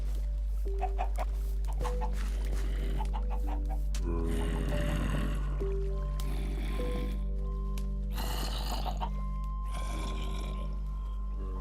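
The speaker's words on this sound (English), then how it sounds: "I'll leave those 6 or 7 chickens up there just clucking around" Several chickens in the video game Minecraft cluck in repeated bursts over a steady low hum, with a few snort-like sounds mixed in.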